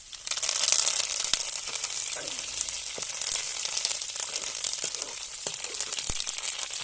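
Curry leaves sizzle in hot oil with ginger and garlic for a Kerala-style beetroot pickle, a steady bright crackling frying hiss with brief pops and spatters throughout, no voices.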